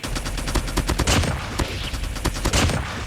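Rapid gunfire from a DR-H Wicked Claw rifle in a video game, a dense fast string of loud, punchy shots with short breaks between bursts, close and dominant, no talk.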